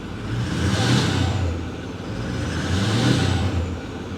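Ford F350 pickup engine running at idle near the listener, a steady low rumble with uneven surges and lulls suggesting an intermittent misfire, no talking over it.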